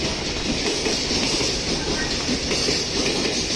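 A freight train rumbles steadily past close by at Kyoto Station, a dense continuous roar with faint rhythmic clatter of wheels on track.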